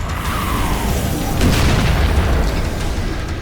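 A BFG-style heavy weapon fires in the game Dread Templar, a loud, booming blast with a rumbling low tail swelling midway and sustaining to the end.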